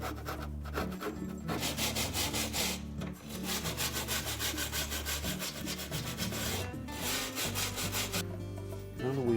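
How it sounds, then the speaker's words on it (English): A putty knife scrapes old felt off the metal drum of a Frigidaire dryer, a loud, close, rasping scrape in long strokes with brief breaks between passes. "we'll scrape off all the old felt using either a putty knife"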